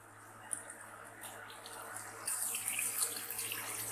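Water pours from a small glass into a cooking pan of egg kofta curry, a steady splashing and trickling stream that swells louder midway and runs on to the end, with a low hum of the kitchen beneath.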